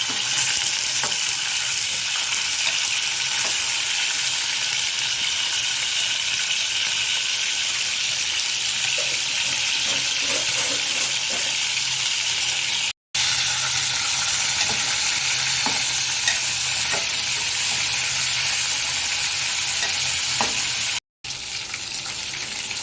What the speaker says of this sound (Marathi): नॉर्मल चिकन फक्त टाकून आपल्याला हे फ्राय करून घ्यायचं परत गॅस हाय फ्लेमवरतीच ठेवायचा